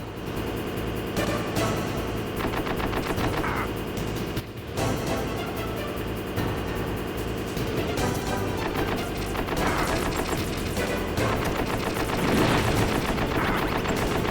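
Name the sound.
tank main cannon and gunfire in video game Metal Gear Solid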